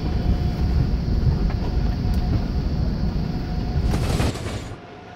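An Amtrak Acela Express train in the Trainz video game rumbles past loudly and steadily with a low rolling roar, then fades away abruptly near the end.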